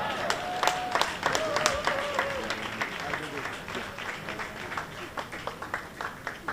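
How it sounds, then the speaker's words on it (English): An audience applauds warmly for Prime Minister Andrew Holness at the Jamaica 60 launch reception in New York. Clapping from a crowd fills the room at moderate volume, and voices talk over it. "let's give one more warm round of applause for the Honorable Andrew Holness, Prime Minister of the beautiful, beautiful Jamaica"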